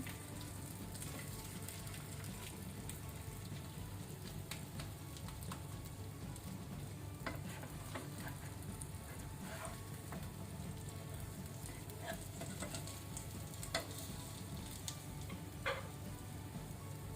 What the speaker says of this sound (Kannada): ಇಲ್ಲಿ ನಮ್ದು ಮೀನು ಫ್ರೈ ಆಗಿದೆ. ನಾವು ಇದನ್ನು ಟರ್ನ್ ಮಾಡುವ ನಿಧಾನಕ್ಕೆ.